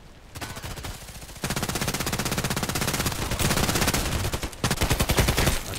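Automatic gunfire in the online shooter Contract Wars, a continuous rapid stream of loud, close shots in several long bursts with brief breaks, dense and unbroken, no voices over it.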